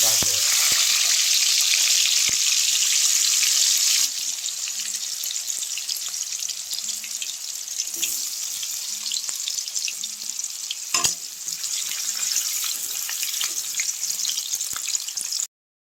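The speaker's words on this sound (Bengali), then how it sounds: "গাজরগুলো ভাজা হয়ে গেছে," Carrots frying in mustard oil and ghee with panch phoron and dried red chillies give a steady, loud sizzle throughout, louder for the first few seconds. Faint stirring scrapes and low tones sit beneath it.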